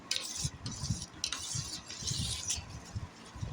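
Egg, chopped onion and green chilli being stirred together on a plate, with soft scraping and mixing strokes repeating at an uneven pace, close and moderately quiet, no talking.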